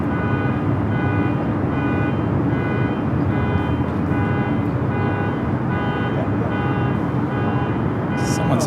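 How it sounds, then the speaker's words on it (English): A car horn honks in repeated, evenly spaced pulses of a steady tone near Los Angeles International Airport, sitting over a constant loud roar of airport and traffic noise. "Someone's honking."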